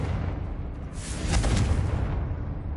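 Confringo explosive spell cast in the Hogwarts Legacy video game, a single burst with a sharp bright crack around midway followed by a low rumbling boom that fades out over a couple of seconds.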